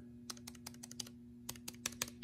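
Typing on a Jelly Comb K62B wireless backlit aluminum keyboard, a quiet, close series of crisp key clicks in uneven bursts over a faint steady hum.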